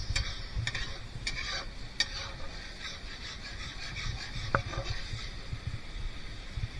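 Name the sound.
mustard gravy cooking and being stirred in pan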